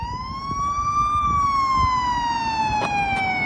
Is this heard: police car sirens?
yes